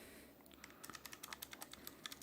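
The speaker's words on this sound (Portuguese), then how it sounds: "Ultemo Gold Switch com clique." Outemu Gold clicky mechanical keyboard switches give a quick run of sharp, crisp clicks under steady typing. The keystrokes sound close and fairly even against a faint background hiss.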